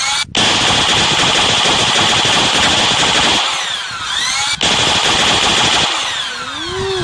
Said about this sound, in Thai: ปืนนี้จะรัว จะยิงตัวนั้นให้หมด